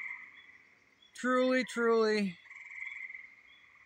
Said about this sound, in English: The bullfrogs are going off.